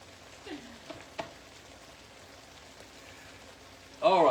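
Sausage and tortellini simmer in a skillet, a soft, even sizzle with a couple of faint clinks, then a voice comes in loudly at the end.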